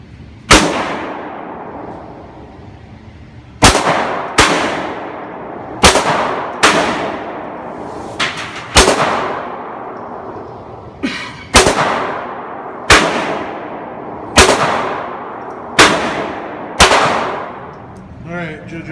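Handgun shots ring out at an outdoor shooting range, about a dozen loud, sharp cracks fired one at a time with short, slightly uneven pauses, each followed by a brief ringing decay.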